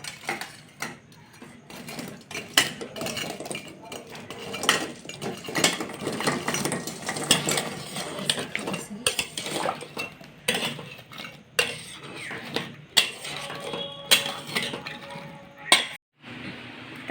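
Cooled gulab jamun being dropped into sugar syrup in a pan, with frequent clinks and scrapes of a metal spoon against the cookware, irregular close-up clatter and stirring sounds, with brief pauses between bursts.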